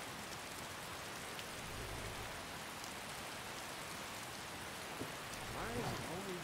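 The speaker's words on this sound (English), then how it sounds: "Why is it always raining?" Steady, dense rain falls continuously in the Skyrim video game, a constant even hiss throughout with no distinct drops or thunder standing out.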